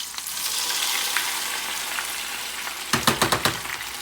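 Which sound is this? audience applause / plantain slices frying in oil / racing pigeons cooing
plantain slices frying in oil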